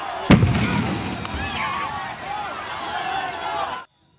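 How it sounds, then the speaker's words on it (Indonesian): A single sharp booming cannon blast cracks out early, signalling the start of a traditional boat race in Kuantan Singingi, Indonesia, followed by a crowd's noisy cheering and chatter that continues until an abrupt cutoff. "melihat dan mendengar suara ledakan dari sebuah meriam"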